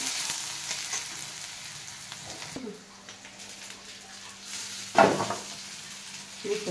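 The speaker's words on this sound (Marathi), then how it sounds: "लालसर छान असा कांदा भाजून घ्यायचा" Onion fries in a pan with cumin and mustard seeds, a steady close sizzle with a stir and a brief clatter partway through, and faint talk in the background.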